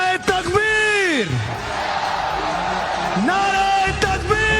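A stadium crowd at the PSL opening chants slogans in loud, sustained call-and-response, a leader's drawn-out shout rising and falling before massed voices roar back, with continuous crowd noise underneath.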